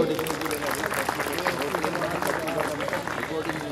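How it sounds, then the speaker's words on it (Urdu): An audience at a grand opening ceremony claps for the winning team, a steady, dense wash of applause lasting the whole stretch, with a voice heard over it. "تالیاں ہونی چاہیے ان کے لیے"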